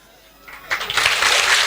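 Congregation applause at a church sermon swelling from near silence into a steady, dense wash of clapping that holds to the end.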